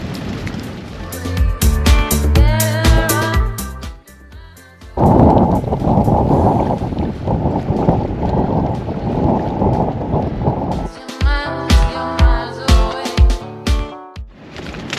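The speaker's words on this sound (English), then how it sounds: "Wind's getting up, as you can probably hear." Strong evening wind at Yeadon Tarn, a lakeside carp-fishing spot, buffets the microphone in heavy, rumbling gusts, with a rougher roaring stretch in the middle and rhythmic thumping around it.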